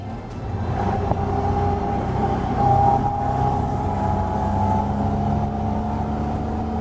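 Ford Escort MK I engine running steadily with a low, continuous drone and a brief swell partway through, heard close and alone without voices.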